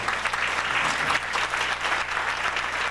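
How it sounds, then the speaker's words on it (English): An audience applauds, a dense, steady clatter of many hands clapping that fills the whole stretch at even loudness, with no talk on top. "Let's give him a round of applause."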